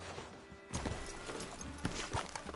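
Horse hooves clip-clop on woodland ground in Red Dead Redemption 2, a few soft, moderately close steps over a low outdoor ambience with no talk.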